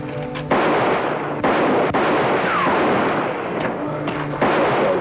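Gunfire in a western TV show: several loud, sharp shots ring out in quick succession over a dense, continuous roar of action and commotion.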